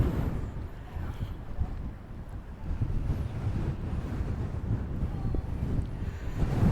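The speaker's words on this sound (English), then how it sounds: "It's really breezy. Are you guys getting that on the mic?" Strong gusts buffet the microphone at Kasai Rinkai Park, a seaside park, producing a constant, loud, low roaring rumble that rises and falls throughout.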